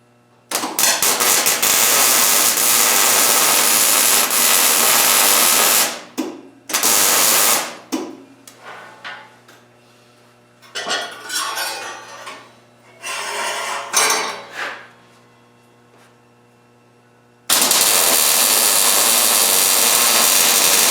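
A metal grape vine tendril being welded, a loud, close, steady hiss and buzz of the welder running for several seconds, breaking off with shorter bursts of grinding and handling noise, then starting again at full strength.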